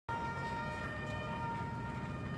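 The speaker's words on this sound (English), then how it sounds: "Just ambulances on top of ambulances." A steady, wailing ambulance siren drones loudly throughout, with no other sounds standing out.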